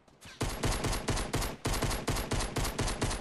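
Rapid bursts of automatic gunfire in Fortnite Battle Royale ring out loud and close, shot after shot in a steady rhythm after a brief quiet start.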